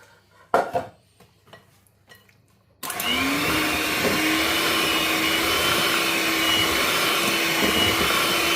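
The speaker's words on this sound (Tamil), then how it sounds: "இப்போ பேரிச்சம்பழத்தை போட்டு அடித்தாச்சு" Mixer grinder blending dates for a date cake: after a few soft kitchen clatters, the motor starts loud and steady and keeps running continuously at close range until the end.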